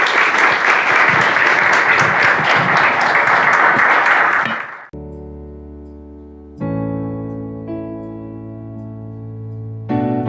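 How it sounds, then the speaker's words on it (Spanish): Church congregation applause, dense and loud for several seconds, then cuts to sustained organ-like music chords. "Aplausos, Señor."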